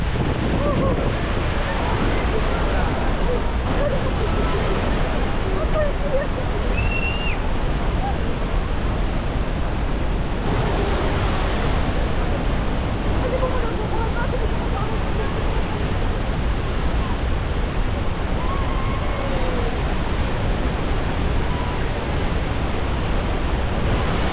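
A dense, constant roar of heavy falling water and spray at Niagara Falls, loud and unbroken throughout, with wind buffeting the microphone.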